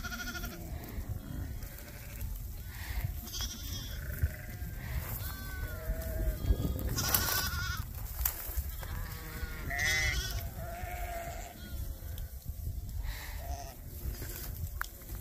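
Ewes and lambs grazing on cereal rye in a field, bleating repeatedly from near and far, the calls overlapping against a soft outdoor background.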